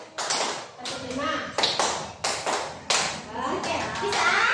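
Children and adults clap their hands in groups following a counted pattern of one to five, with sharp bursts of claps and short pauses between them, as voices speak between the groups.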